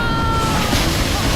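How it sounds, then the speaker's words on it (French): Large ocean waves churn and roar continuously at close range, loud and rough like wind-blown surf, with no clear speech over the noise. "ces vagues étaient immenses"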